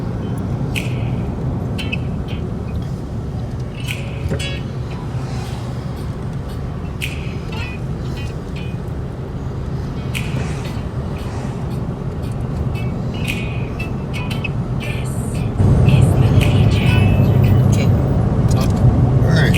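A car driving on a road away from Mount Rainier toward the Pacific Coast, a steady cabin rumble and road roar throughout that grows slightly louder near the end, with people talking over it.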